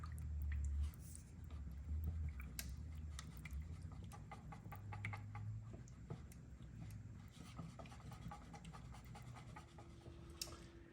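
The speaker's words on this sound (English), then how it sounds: "we're just going to whisk this together" Cream of chicken soup and milk are whisked in a bowl, producing soft, quick repeated scraping and tapping strokes that stay faint and close throughout.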